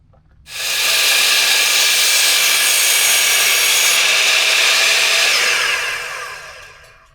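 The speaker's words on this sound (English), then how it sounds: "We're having fun making 45-degree angle cuts with this miter saw." Miter saw cutting 45-degree angles in wood while building custom outhouse roof trusses: one loud, steady whining cut that starts abruptly, holds for about five seconds, then winds down, with no talking.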